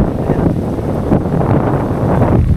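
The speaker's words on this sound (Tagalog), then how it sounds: "ang lakas ng hangin, solid ng hangin, lakas oh" Strong wind gusts buffet the microphone at a campsite beach in Dingalan, Aurora, producing a loud, constant low rumble with no pauses.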